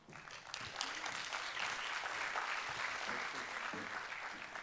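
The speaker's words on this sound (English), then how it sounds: "Please, a round of applause for them." Steady, fairly faint applause from an audience at a session of the ECOWAS Community Court of Justice outreach mission in Cabo Verde, honoring Dr. Diallo and his team, a continuous wash of clapping throughout.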